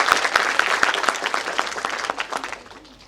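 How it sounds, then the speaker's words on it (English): An audience at a personality grooming workshop breaks into applause, a dense burst of clapping that starts loud and gradually thins out and fades. "Please give a big round of applause for Janab Siraj Sahab."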